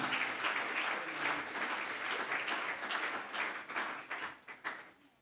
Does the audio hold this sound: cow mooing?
no